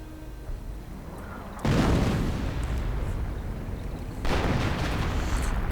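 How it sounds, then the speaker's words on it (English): Artillery barrage shells land on a bunker in a war strategy game, two heavy rumbling blasts a couple of seconds apart, each a loud sustained roar that lingers over low background noise. "And the barrage finishes off the bunker"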